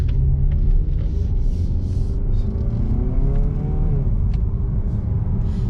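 A 2020 Mazda CX-30 compact SUV drives along a road from inside the cabin, with a steady low rumble of engine and tires and a gentle rising acceleration.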